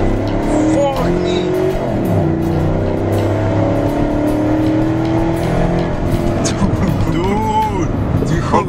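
A 2020 GMC single-cab pickup fitted with a cold air intake runs loudly close by, its engine note rising and falling through the revs, while people talk over it the whole time.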